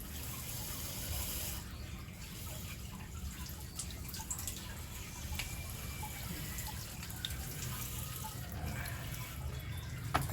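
Water poured one by one onto freshly cut plant cuttings, a soft continuous trickle and splash with scattered drips, faint and close, no talking.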